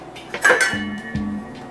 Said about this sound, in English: Put the lid on.